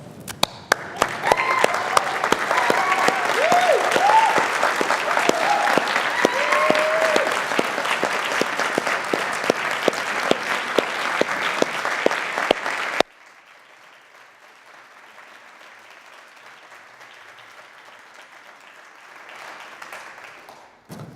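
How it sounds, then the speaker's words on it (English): A standing crowd of graduates at a Royal College of Surgeons graduation and honorary degrees ceremony applauds loudly and steadily for about thirteen seconds, then cuts off sharply to quiet hall ambience. "can I ask you to be upstanding and applaud your audience"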